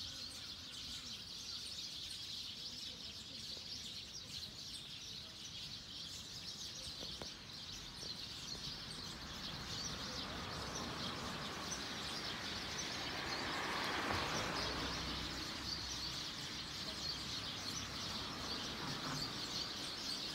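Sparrows in Tsukuba City chirp at their night roost as a dense, distant wash of many overlapping tweets, steady and swelling slightly midway, with no talk.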